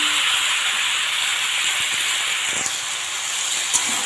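Mixed vegetables go into a pot of cooking lentils for a vegetarian dal curry, and a steady, close sizzling hiss runs throughout, with a couple of faint clicks.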